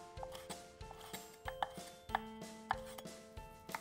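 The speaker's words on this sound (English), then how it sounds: "You can pat the shrimp and then cut it into small pieces." A knife cuts shrimp into small pieces for wonton filling, tapping the board in an even, fairly fast rhythm. The cuts sound close but soft, with light ringing knocks at some strikes.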